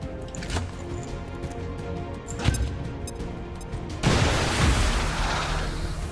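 A frag grenade going off in XCOM 2, with a sharp impact thump midway and a loud, sustained roaring blast bursting in near the end after scattered cracks and clatter.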